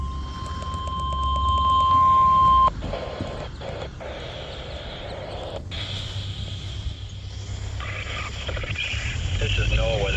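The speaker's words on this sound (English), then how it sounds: "The preceding signal is a test of the public warning and alarm for transmitters to the West Central Southwest Florida listening area" NOAA Weather Radio EAS test alert in west central and southwest Florida: a loud steady attention tone at the start stops abruptly, followed by staticky broadcast noise and a voice speaking.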